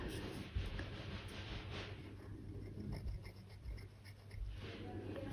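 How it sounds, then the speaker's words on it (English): A pen or pencil marks a dot on a paper profile map, giving faint, close scratching and rubbing against a soft background hiss, with no talking. "Now, when you got that point, draw a dot."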